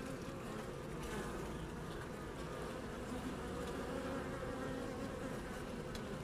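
Honeybees hum at a hive while a breeding queen is being introduced to the colony, a steady, continuous close-up drone of many wings with no voices over it.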